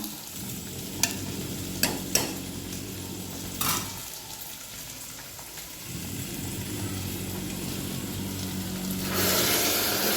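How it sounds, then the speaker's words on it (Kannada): Cooked vegetables go into a hot pan for a vegetable stew and get stirred, bringing a few sharp scraping knocks, a steady close sizzle and hiss, a brief lull, and then a louder sizzle toward the end. "ಈಗ ಬೆಂದಿರೋ ತರಕಾರಿ ಇದಕ್ಕೆ ಹಾಕೋಣ."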